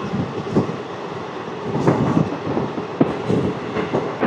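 The 17239 Simhadri Express between Guntur and Visakhapatnam runs steadily on the rails, heard from on board as a loud continuous rumble with irregular clicks and knocks from the wheels over the joints.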